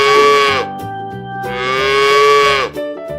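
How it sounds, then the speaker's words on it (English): A cow moos twice in loud, drawn-out calls, each lasting about a second, with a short pause between them and no other sound. "Cow."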